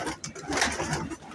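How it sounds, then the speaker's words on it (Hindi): Pigeons cooing in a dense flock gathered at a rooftop net, a continuous murmur of soft, overlapping calls heard close and fairly loud, with no talk over them. "देख रहे हैं दोस्तों माशाल्लाह ढेर लगा हुआ इधर कबूतरों का"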